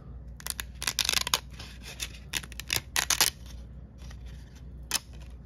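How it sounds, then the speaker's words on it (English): Support raft being pulled and snapped off a Bambu Lab 3D print in ASA Aero filament, giving bursts of sharp crackling, tearing and crunching plastic in quick irregular clusters, close and fairly quiet, with no talk. "So let's take the raft off."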